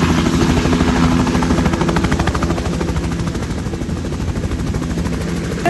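A helicopter arrives at a cricket ground in Nangal, its rotor giving a loud, steady, rapid chopping drone that holds through the whole stretch with no talk over it.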